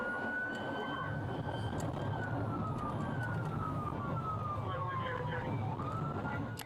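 Siren of a state trooper police car responding through heavy highway traffic in Tacoma, Washington, wailing steadily and loudly throughout over a constant low traffic rumble.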